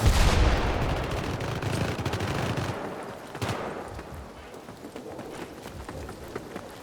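Assault rifle fire in the 2012 shooter Syndicate, a dense rattling burst up front fading into scattered lighter shots and combat noise, moderately loud with no voices.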